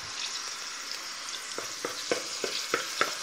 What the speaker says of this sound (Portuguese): eu coloquei alho e cebola e um pouquinho de óleo. Vamos dourar um pouquinho isso aqui.